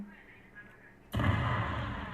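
An Arma 3 explosion bursts in suddenly after a quiet second, a loud, broad roaring blast that keeps rumbling at high level to the end.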